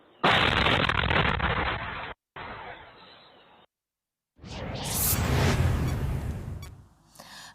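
Heavy booming explosions in a series during a drone attack, loud rumbling blasts broken by brief silences, the last burst trailing off with crackling debris.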